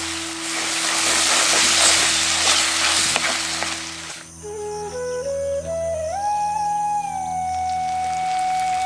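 Chopped tomatoes hit a hot pan with ginger-garlic paste for a village-style mutton fry, setting off a loud, dense sizzle for about four seconds that then drops to a quieter simmer while a rising whine-like tone sounds over it.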